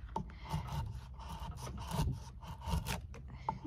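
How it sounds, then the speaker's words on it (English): A carving knife scraping loose bark off old barn wood in short, uneven strokes, close up, with rough rasping scrapes and small knocks repeated throughout. "So I'm just gonna use a knife,"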